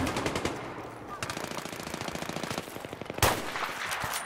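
Rapid automatic gunfire in Battlefield 3 team deathmatch on the Azadi Palace map, a close, loud machine-gun burst rattling steadily for several seconds, ending in a sharper heavy blast, with a voice faintly under the shots.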